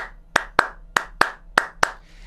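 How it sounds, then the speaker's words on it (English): Six sharp, close hand claps in an even rhythm, the kind used to keep time for Latin American dance, each crisp and separate with short quiet gaps between them. "You can do the clapping, which is going to be like this."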